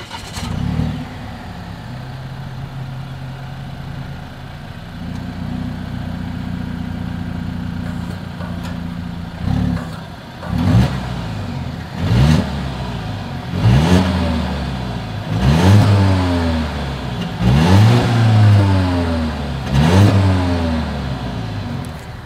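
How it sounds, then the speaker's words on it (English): A 2020 Volvo XC90 T6 engine idles with a deep dual exhaust rumble, then gets several sharp revs in a steady rhythm, each rising and falling back, loud and close. "Here is that exhaust clip."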